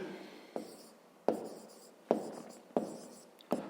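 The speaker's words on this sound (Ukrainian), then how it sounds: "записуємо тоді" Handwriting during a fifth-grade math exercise, a faint close scratch of pen on paper, with five short sharp taps spaced about a second apart as strokes are made.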